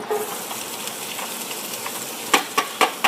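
Onions dropped into hot fat in a pot on the stove, sizzling with a steady frying hiss, then several sharp crackling bursts near the end.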